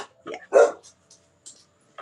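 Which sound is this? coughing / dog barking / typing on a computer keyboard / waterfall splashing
dog barking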